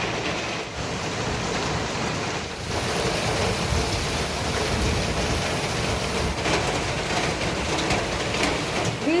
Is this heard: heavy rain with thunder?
yes